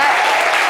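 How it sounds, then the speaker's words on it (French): A brief burst of loud, dense audience applause on a French-language talk show, filling the whole moment evenly. "Applaudissez pour Mariam"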